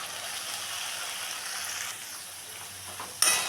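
Poppy seed paste is stirred into fried potatoes in a pan. A soft, steady sizzle comes with gentle stirring and ends with a sharp metallic clank.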